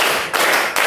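A classroom of children clap their hands together in unison, a dense burst of applause-like claps in two or three short rhythmic bursts, loud and close with no talking.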